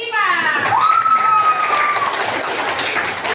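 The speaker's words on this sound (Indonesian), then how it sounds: "Tepuk tangan buat kelompok 5" A classroom crowd breaks into clapping and cheering, with children's voices and a rising whistle-like shout over the noisy, sustained applause.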